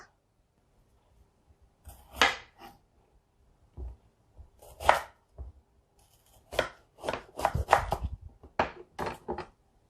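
A knife chops bitter melon into pieces on a cutting board, giving sharp, close knocks that come in irregular bursts of several quick cuts separated by quiet pauses.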